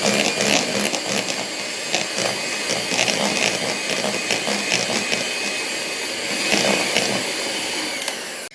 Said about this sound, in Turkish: Şöyle biraz daha bir 10 saniye kadar çırpalım